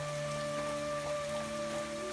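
Heavy rain falling on a village street, a dense, even hiss of drops on surfaces continuing steadily throughout, with a faint tonal hum underneath.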